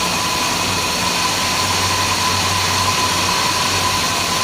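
A 1979 Chrysler Cordoba's engine idles steadily at close range, giving a continuous loud hum and rumble with no talk over it.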